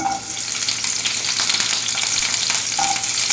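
Steady, loud sizzling of onions frying in hot oil, continuous and close, with occasional stirring scrapes and no voices.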